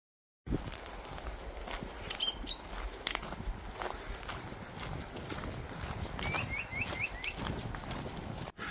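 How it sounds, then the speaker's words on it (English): Short chirping bird calls ring out a few times over steady footsteps on a path beside a railway line on the Wales Coast Path between Penmaenmawr and Bangor, the birds fairly faint and somewhat distant. "There are tons of birds, and I hope you can hear the bird songs."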